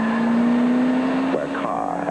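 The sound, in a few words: car driving on a skid pad, tires at their limit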